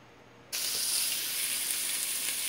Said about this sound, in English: in this other skillet here, we're going to toast our chickpeas.